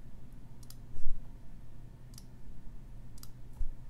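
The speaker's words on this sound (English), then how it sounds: "And then we click it out once, and we actually go counterclockwise" The crown of a Clowes Hurricane Hawker automatic pilot watch is pulled out to set the date, producing a few small, sharp, isolated clicks over a low steady hum.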